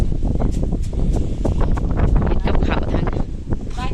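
Wind gusts buffet the microphone on a cold morning outdoors, a loud, rough, continuous rumble with bursts of rustling throughout.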